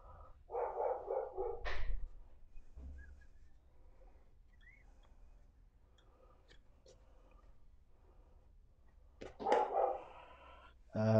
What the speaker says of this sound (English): Shut up, puppy dogs.